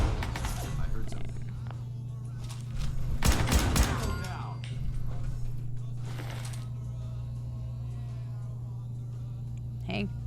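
A shotgun fires in Fallout 4 against low-level gunners, with a burst of loud blasts clustered together and fainter shots around them, over a steady game hum with someone talking at times.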